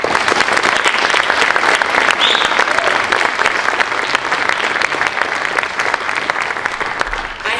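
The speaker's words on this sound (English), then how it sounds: "Let's give our students a round of applause." Loud, sustained audience applause at a student research and internship symposium, a dense crackle of many hands clapping continuously for over seven seconds, close and full with a light crowd murmur beneath.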